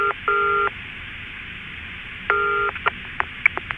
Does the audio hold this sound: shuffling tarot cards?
no